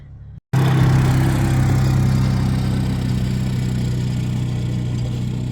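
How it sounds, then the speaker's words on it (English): Four-wheeler engine cranking, then running at a steady idle close by, a continuous low rumble with a hum that holds for several seconds after a brief silent gap at the start. "They heard my brother-in-law crank the four-wheeler"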